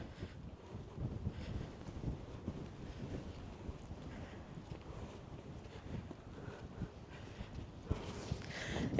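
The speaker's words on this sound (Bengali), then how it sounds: "এত পরিমাণের বাতাস যেটা বলার বাহিরে" Strong wind gusting over a hillside village in Hong Kong, buffeting the microphone in low rumbling bursts that rise and fall, fairly faint overall with a louder gust near the end.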